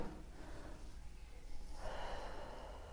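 During a pregnancy exercise with a small ball, a woman draws a deep breath in through her nose, then lets it out. The airy breath is soft and close, and it swells audibly partway through, with no talking over it.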